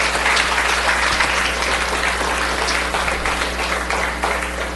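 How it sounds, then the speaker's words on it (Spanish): Church congregation applauding together at an afternoon service, a steady dense wash of clapping filling the room, close and loud with a constant low hum underneath and no talk. "vamos a darle un fuerte aplauso al Señor en esta tarde"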